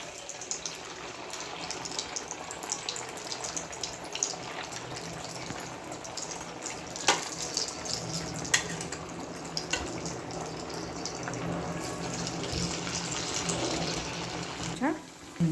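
A steady, rushing sizzle of sabudana vadas frying in hot oil in a kadai continues throughout, with occasional clicks and clatter close by.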